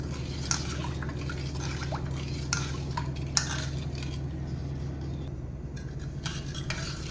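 Kharwas mixture is stirred in a bowl, with wet scraping strokes and occasional spoon clinks over a steady low background hum.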